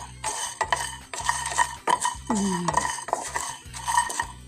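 A metal utensil scrapes and clatters in a pan, chilies and garlic being dry-roasted over low heat, with repeated stirring strokes in a steady rhythm, close and clear.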